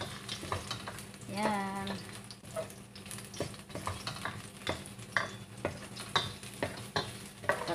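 Chayote, cauliflower and carrots being sautéed in a pan with onion, a steady soft sizzle broken by frequent scraping and clinking stirs, with a brief voice heard partway through.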